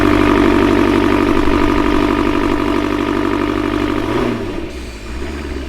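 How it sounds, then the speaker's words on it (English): Dodge Charger Hellcat engine held at high RPM on launch control, a loud steady drone with a throbbing harmonic tone that drops away near the end. "It doesn't build boost, it just sits there at a high RPM."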